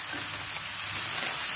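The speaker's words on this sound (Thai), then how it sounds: "วันนี้ผัดมะหมี่เป็นวันแรกนะคะ" Vegetarian noodles stir-fry in a hot pan, giving a continuous, close sizzle with faint scraping, short and steady with no voices.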